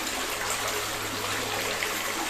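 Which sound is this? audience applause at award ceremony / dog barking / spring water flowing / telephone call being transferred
spring water flowing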